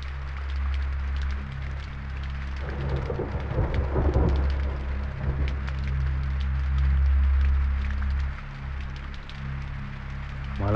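Heavy rain pours steadily onto a street while loud thunder rumbles and cracks nearby, swelling and fading through the downpour with no voices.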